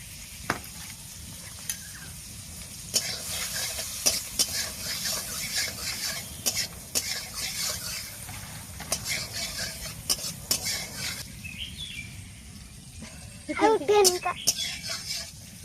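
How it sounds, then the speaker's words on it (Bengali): Amul butter melting in a kadai gives a faint, steady sizzle broken by clinks and scrapes of a spoon against the pan, heard close with a person talking at intervals. "এবার এই আমুল বাটারটা কিছুটা আমি কড়ার মধ্যে দিয়ে দেব"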